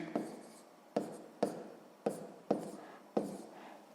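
Pen writing on paper while working a sixth-grade maths exercise, six short scratchy strokes spaced irregularly, close and quiet, with no speech over them.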